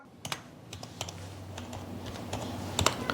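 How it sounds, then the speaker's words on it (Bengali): Computer keyboard keys are tapped at a cyber cafe while a PAN card number is entered, an irregular run of close, quiet clicks over a low background hum. "প্যান কার্ড নম্বরটা টাইপ করে দিলাম"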